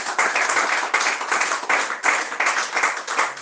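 A church congregation claps and applauds together, loud and continuous, in uneven rhythmic bursts that fill the room.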